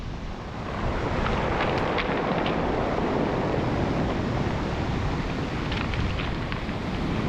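Stormy sea churns and roars over a pebble beach in Scotland during a gale, a dense, steady, loud rush of surf mixed with heavy wind noise, with occasional faint clicks of stones.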